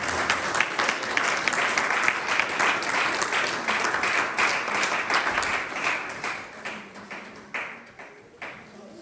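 A church congregation breaks into sustained applause that thins out into scattered, separate claps over several seconds, with faint voices underneath.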